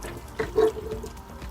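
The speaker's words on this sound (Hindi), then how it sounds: "पतीले में पानी शामिल करेंगे और पानी जो है वो हम इसमें डाल देंगे ताकि हमारा पतीला भी क्लीन हो जाए।" Water is poured into a cooking pot used for paya to rinse it clean, a brief soft splash and trickle in a quiet room.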